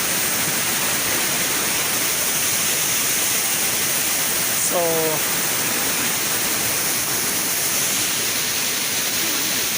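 Salvosa Falls in Davao de Oro roars as a steady, dense rush of falling water that fills the whole stretch, loud and unbroken, with a brief spoken word near the middle.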